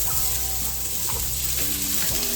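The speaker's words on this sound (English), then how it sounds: "I'm adding my onion." Chopped onion sautéing in a little oil in a pan over lowered heat, a continuous close sizzle that runs unbroken for the short stretch.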